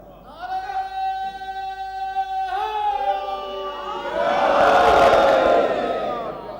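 A congregation at a religious majlis gathering raises a loud chanted slogan, a leader's sustained call answered by a swelling crowd roar that peaks near the end, close and filling the hall.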